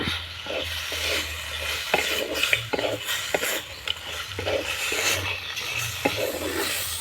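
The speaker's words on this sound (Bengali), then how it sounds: "কাঁকড়াটা যে ভেজে রেখেছিলাম দিয়ে দেব একসঙ্গে মশলার সঙ্গে কষিয়ে নেব" Fried crab stirred into spice paste in a pan for a spicy Bengali crab curry, with a utensil scraping and knocking against metal every second or so over a steady sizzle, close and fairly loud, with no talking.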